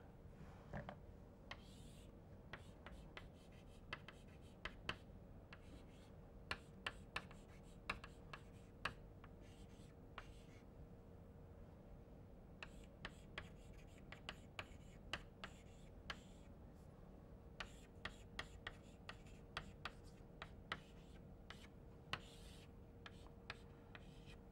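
Pen or chalk strokes writing out a physics equation by hand, a quiet, irregular run of faint scratches and small taps over a steady low hum, with soft breathy voice sounds now and then.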